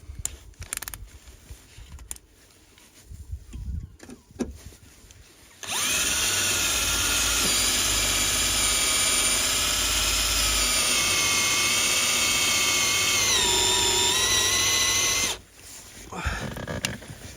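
A power drill grinds through the metal of a door in one long, loud, sustained whine for about ten seconds, with the pitch dipping near the end, surrounded by quieter handling noise.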